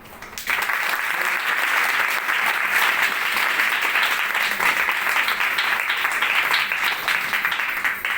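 Congregation clapping for God at a Sunday church meeting, a sudden onset into full, steady applause that stays loud and even for several seconds with faint voices mixed in.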